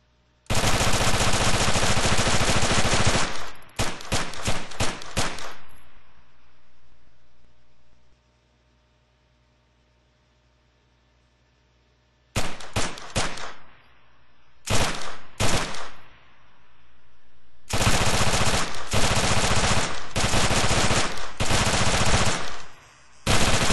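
Unsuppressed Scorpion submachine gun fire in Arma 3, heard as long loud sustained full-auto bursts and a few short rapid bursts, separated by a stretch of near silence.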